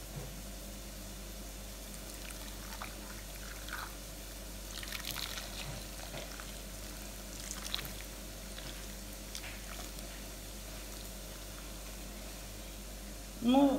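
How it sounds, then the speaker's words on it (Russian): Boiling water is poured over tomatoes in a home kitchen, making a steady, continuous splashing trickle against low background noise. "Помидорки теперь заливаем кипятком."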